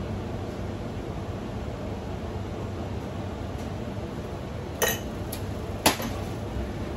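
A spoon clinks twice against a pot of spiced beef brongkos stew, Yogyakarta style, while it is stirred. The two brief, sharp clinks stand out over a steady background hiss.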